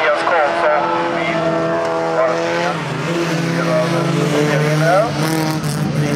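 Folkrace cars race around the Fjärås track in a heat, engines revving loud and close with rising and falling gear-change whines and tire squeal, while a commentator talks over the action.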